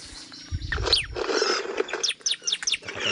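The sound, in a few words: bar-winged prinia (ciblek) bird calling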